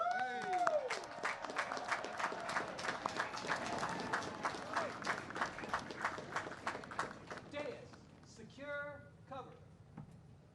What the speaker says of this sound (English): Class of 2020, one more time, round of applause.